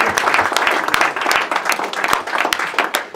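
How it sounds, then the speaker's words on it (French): Audience applause at a May 8 commemoration medal ceremony in France, a dense, steady crowd clapping with scattered sharp individual claps, sustained for the whole stretch at moderate loudness. "vous pouvez l'applaudir"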